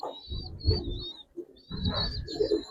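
Old-breed Giribaz pigeons in a loft coo in low, throaty bursts, two main rounds with a brief pause between them, heard close over a faint high background whine.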